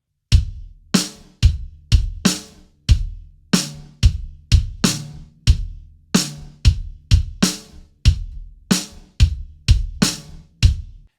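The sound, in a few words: kick drum and snare drum pattern without hi-hat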